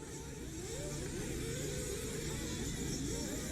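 Nitro RC buggies race at an outdoor track, their small engines making a continuous high whine that drones on steadily throughout, with no clear lull.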